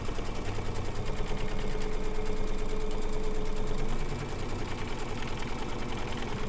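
Rapid, steady mechanical chatter of an embroidery machine stitching a background outline on fabric, close and continuous, easing slightly toward the end.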